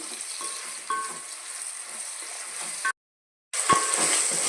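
Onions and ripe tomatoes fry in a pan for prawn biryani, a steady close sizzle with occasional stirring clinks, broken by a brief silent gap before the frying resumes.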